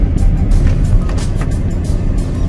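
A 2005 Toyota Altis with a 1.6-litre automatic engine and LPG injection is being driven. It gives a loud, steady low rumble of engine and road noise throughout, with faint rattles above it.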